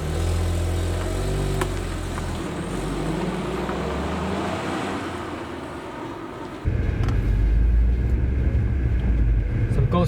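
A 2016 Ford Fiesta ST Line with a 1-litre EcoBoost engine driving on the road, steady low engine rumble and road noise from inside the cabin, rising in loudness partway through.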